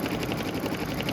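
An embroidery machine stitches a zigzag background with white thread on a Kimberbell Christmas tag, giving a steady, close mechanical whir with a fast, even stitching patter throughout.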